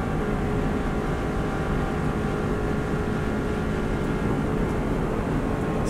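Subaru WRX STI at full throttle on the Isle of Man road course, heard from inside the car: a loud, constant engine drone mixed with road and wind roar, close and unbroken throughout, with no talking.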